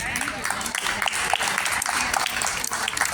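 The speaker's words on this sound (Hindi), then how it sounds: "आपके लिए जोरदार तालियां बजाएं।" Audience at a guidance talk for society members breaks into loud, dense applause, steady clapping filling the room throughout.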